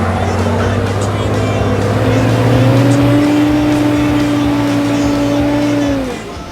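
A four-wheel-drive vehicle engine drones loud and close at steady revs, its pitch rising slightly as it pushes through a mud hole, then the engine drops off near the end.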